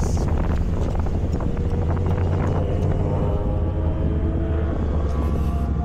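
An AK Premium 550 motorcycle engine revs as the throttle is opened on a morning ride, its loud drone rising in pitch under heavy wind rush against the microphone.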